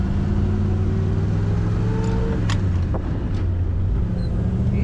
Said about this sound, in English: Very smooth running Chevrolet.